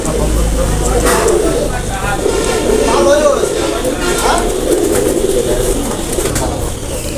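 Jonsira Teddy pigeons cooing in a loft, soft repeated coos mixed with bird calls and a steady background hum, with people talking throughout.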